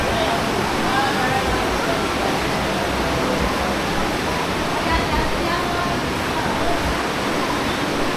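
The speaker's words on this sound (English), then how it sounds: "it's just pouring to rain" Heavy rain pours down at a public market in Davao City, Philippines, a dense, loud, unbroken hiss lasting throughout, with people talking underneath the downpour.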